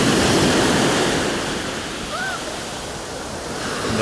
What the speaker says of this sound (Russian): Вот волна идет, все-таки. Волна.